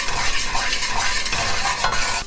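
Oil and curry powder fry in a Dutch pot, a loud close sizzle with the scrape and clink of a utensil stirring against the pot.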